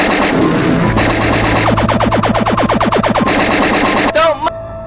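Rapid automatic gunfire from the Sakura School Simulator video game crackles in a dense, regular burst of shots, loud and close, while excited voices talk over it.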